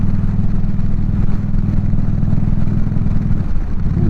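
Motorcycle engine running steadily on a short cold-weather ride, a loud, close low rumble with pulsing firing rhythm and some clatter, holding an even pace throughout.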